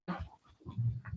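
A female service-dog puppy pants and whimpers in short, close, soft bursts, quick breaths broken by a few thin whines, with no talking.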